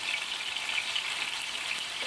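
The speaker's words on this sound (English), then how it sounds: "Mushrooms have come up to the boil again" Mushrooms cook in a pan on the boil, giving a steady, close bubbling hiss and sizzle with no talking.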